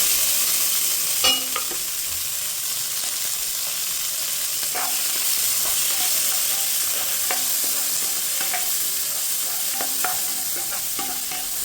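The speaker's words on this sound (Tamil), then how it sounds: "நறுக்கி வச்ச குடமிளகா போட போகிறோம்." Steady sizzling of chopped capsicum frying in a pan for cauliflower rice, with a few soft clinks and scrapes of stirring scattered throughout.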